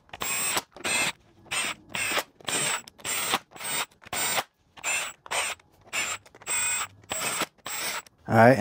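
Valve cover bolts on a Mercedes M156 engine are run down with a hand ratchet in close, evenly spaced bursts of rapid clicking separated by short pauses, with no speech.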